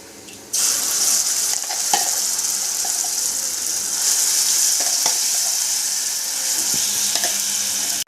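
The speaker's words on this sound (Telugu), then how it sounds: "ఆయిల్ వేసుకోవాలండి, పోపు వేసుకోవడం కోసం. శనగపప్పు, మినపప్పు, ఆవాల, జీలకర్ర, ఎండుమిర్చి వేసుకోవాలి." Chana dal, urad dal, mustard seeds, cumin and dried red chillies hit hot oil for tempering, setting off a sudden loud, close sizzle that holds steady and crackles on until it cuts off abruptly near the end.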